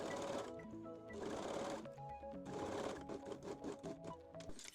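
A serger stitches the seam of a bikini bottom in quiet, rapid mechanical bursts with short pauses between runs.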